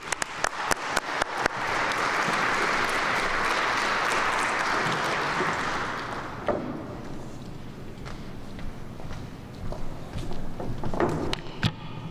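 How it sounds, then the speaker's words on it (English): An audience at the 2022 Kathy Osterman Awards breaks into warm, sustained applause for a department commissioner coming to the stage. A few sharp claps start it, then it swells and fades after several seconds. "Give him a big round of applause."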